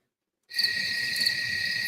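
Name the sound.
crickets chirping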